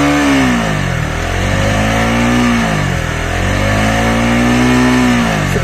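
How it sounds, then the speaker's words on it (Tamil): A 2025 KTM Duke 200 single-cylinder motorcycle engine runs loud and close, revving up and dropping back in repeated swells with no talk. "இப்போ நான் ஸ்டார்ட் பண்ணி ரெவ் பண்ணி காட்டுறேன்"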